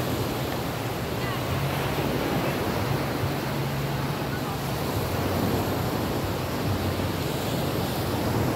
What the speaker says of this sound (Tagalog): Ang ganda yung dagat dito mga po.